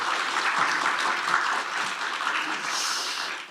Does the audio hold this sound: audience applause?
yes